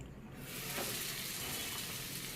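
A bread-crumbed paneer roll slides into hot oil, and a steady loud sizzle of deep frying starts up almost at once and holds evenly for a couple of seconds, with no one talking.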